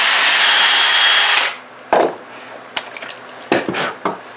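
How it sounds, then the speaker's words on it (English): A power drill boring a pocket hole with a Kreg jig whirs loudly for about a second and a half, then stops, followed by a few sharp knocks and clatters of wood and tools. "And then I'm going to drill in the left hole."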